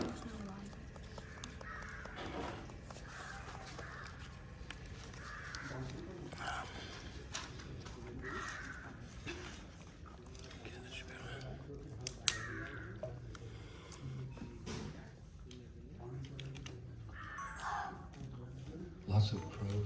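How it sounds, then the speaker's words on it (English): Crows caw repeatedly at moderate distance through an outdoor scene, their calls recurring across the stretch amid a steady background hum and scattered voices talking. "Lots of crows."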